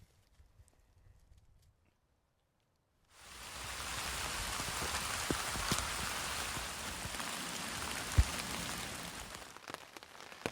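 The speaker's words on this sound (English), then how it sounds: "The rain's really picked up" Heavy rain on a winter woodland walk begins abruptly after a few seconds of near silence, then holds as a dense, steady hiss with occasional louder drops and knocks close by.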